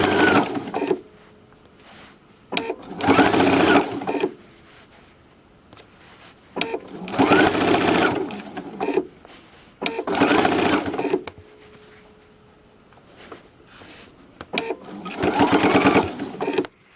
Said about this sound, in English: I'm going to sew to the end of this row a 1/4 inch before the edge of the fabric.